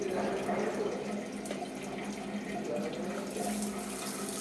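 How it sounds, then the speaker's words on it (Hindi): Water runs weakly from a bath spout on a Bathsense Neo control thermostatic diverter, a constant soft splashing hiss that stays even throughout with no talk. "अब आप देख रहे हैं कि पानी का फ्लो बहुत कम है"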